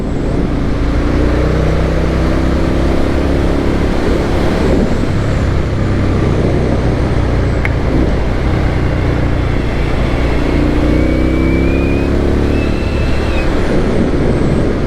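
Motorcycle riding along scenic country roads in Royal Deeside, a steady loud engine drone with rising and falling rev tones as it accelerates, continuous wind rush throughout and no talking.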